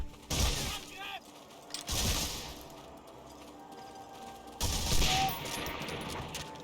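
Bursts of gunfire from the PlayStation 2 game Medal of Honor: Frontline, a few sharp volleys spaced apart with mechanical clatter in between, moderately loud against a quiet background.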